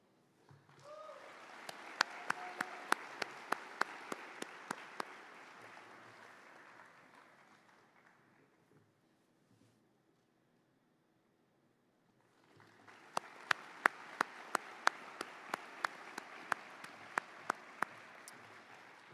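Audience applause at a joint biomedical engineering commencement for master's and PhD graduates: two sustained bursts of clapping with sharp individual claps on top, separated by a quiet gap of several seconds.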